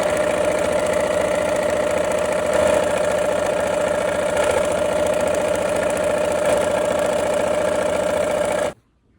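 Sewing machine stitching pieced fabric, coral and yellow, running steadily in one unbroken stretch with a sustained mechanical hum, then stopping abruptly at the end.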